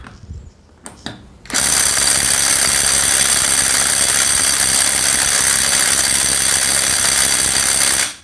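A 12V Work WU132 impact driver hammers on a bolt, a loud continuous rapid rattling that starts after a couple of brief clicks and runs steadily for about six seconds before cutting off.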